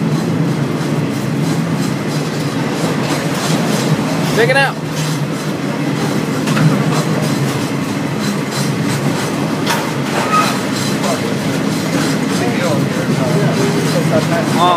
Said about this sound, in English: This is FEC train number 224.